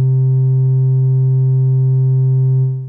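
A single oscillator on an Elektron Syntakt synthesizer sounds one steady, loud, pure low tone that holds unchanged and dips slightly in level at the very end.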